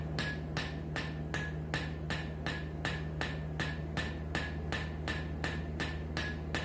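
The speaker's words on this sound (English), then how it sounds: "just introducing a little bit more impact, just a little different, small hammer" A small hammer taps repeatedly on a broken bolt during removal work, giving light, sharp metallic strikes at a steady, unhurried rhythm of roughly two per second, close and distinct over a quiet shop hum.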